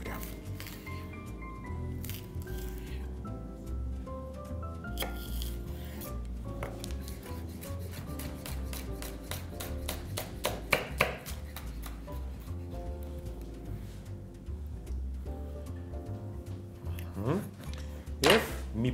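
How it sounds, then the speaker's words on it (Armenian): Knife finely chopping a small hot chili pepper on a board, a steady run of quick close taps under continuous music. "շատ քիչ չնչին կծու պղպեղ։ Սա էլ մանր կտրատում"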